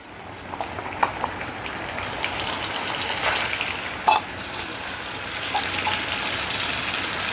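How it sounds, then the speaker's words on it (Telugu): Ginger garlic paste fries with golden-brown onions in a pan, giving a steady crackling sizzle with occasional scraping stirs and small spatters, close and continuous with no talking. "ఈ అల్లం వెల్లుల్లి పేస్ట్ను పచ్చివాసన పోయేంత వరకు వేపుకుందాం"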